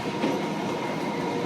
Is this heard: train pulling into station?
yes